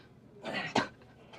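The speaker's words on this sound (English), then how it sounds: "Cough." A single person coughs once, short and fairly faint, in a quiet room.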